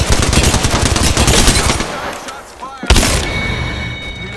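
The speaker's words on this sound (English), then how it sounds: "shots fired" Rapid automatic gunfire from a firefight in the video game Apex Legends, dense loud bursts for nearly two seconds, then a sharp single shot and lighter clatter, with game voice lines over it.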